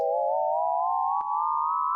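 A single synth riser tone in Ableton Live glides slowly upward in pitch, wavering with a gentle, regular wobbly vibrato from a slow LFO throughout.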